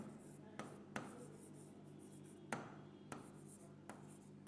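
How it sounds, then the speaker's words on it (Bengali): Pen strokes scratch on paper as a physics problem is worked out by hand, with quiet steady scraping broken by sharp taps as the pen lifts and lands, close and faint, without talk. "তাহলে আমরা যদি এখানে একটু লিখি যে কাসিমের"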